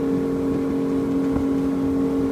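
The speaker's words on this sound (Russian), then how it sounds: "Под мотором Меркурий 60." Mercury 60 outboard motor pushing a Volzhanka 50 Fish boat at about 50 km/h, a loud steady high-revving drone with a strong sustained tonal whine and rushing water beneath, close and constant.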